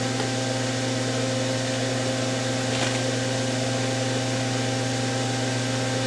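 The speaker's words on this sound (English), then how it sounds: "I have no choice but to put the fan on. I do apologize for the noise." A kitchen exhaust fan runs continuously during wok seasoning, a steady loud droning hum with a broad airy whoosh and no change in level, heard alone without speech.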